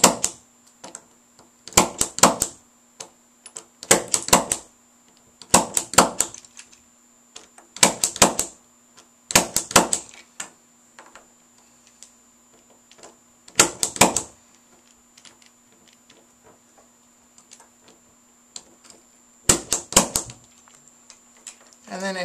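Punch down tool seating CAT6 wires into a keystone jack, a series of sharp impact clicks in short clusters, about seven bursts spread across the span with quiet gaps between, close and fairly loud.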